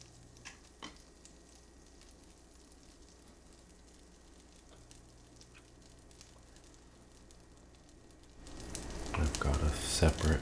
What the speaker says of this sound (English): let's get some butter melting in our pan here